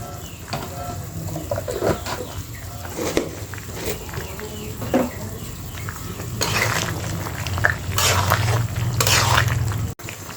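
Garam masala paste and a spoonful of ghee sizzling in a pan, with wet stirring and squelching strokes, steady close frying hiss rising in louder bursts near the end, no speech.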